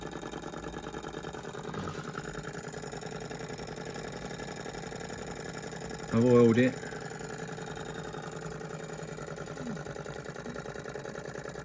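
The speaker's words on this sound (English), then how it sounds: "It's a wonderful little Stirling engine" A small OKMO J06D hot air Stirling engine, a mini four-column beam model, runs with a steady, even mechanical hum close by, while someone speaks briefly over it.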